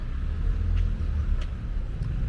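Rush-hour car traffic on a busy street in Lyon, a steady low rumble of idling and passing vehicles with no voices.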